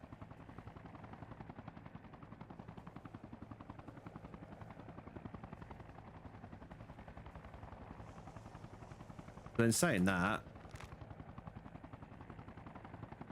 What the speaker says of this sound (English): why is that helicopter just...